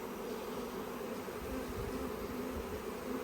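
A honeybee swarm settles back at its hive with a dense, continuous buzz of many bees, steady and moderately close with no talking.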